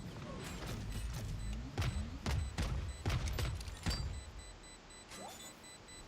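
Missiles launching in a video game: a rapid run of sharp bursts and booms with mechanical clatter, fairly loud and crowded into the middle of the stretch, then tapering off.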